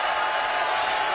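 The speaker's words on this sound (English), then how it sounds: "And the crowd is on its feet" A basketball arena crowd at a UConn men's game against Temple, on its feet and cheering in a dense, even roar of voices and clapping that fills the whole brief moment.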